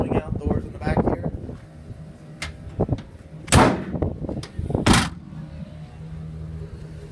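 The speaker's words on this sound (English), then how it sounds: "Swing out doors in the back here." The rear swing-out cargo doors of a 2017 Chevrolet 2500 van give two loud, sharp slams about a second apart, following someone talking nearby.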